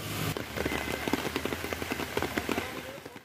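Heavy, continuous rain pours down during severe flooding in Lakshmipur, Bangladesh, a dense steady wash of drops with scattered sharper splashes and patters throughout, fairly loud and close.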